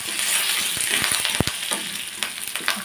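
Fenugreek seeds, curry leaves, cumin and mustard seeds spluttering in hot oil for a Sindhi kadhi tempering, a close, constant sizzle broken by sharp pops and crackles and a few clinks of stirring.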